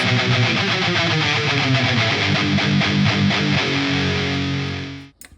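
Dense, heavily distorted electric guitar through a Helix amp modeler chugging steady rhythm chords, loud and sustained, then cutting off abruptly near the end.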